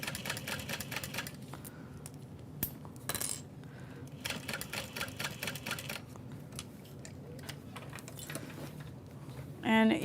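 A sewing machine stitching tote bag fabric in bursts of rapid mechanical clatter, mixed with clicks and small handling knocks at low volume.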